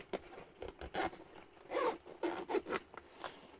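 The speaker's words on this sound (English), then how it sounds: "Zipper's a little bit rough" A rough zipper on the carrying case of an Ayn Odin Pro handheld is pulled open in several short, rasping bursts, close and quiet, with brief pauses between the pulls.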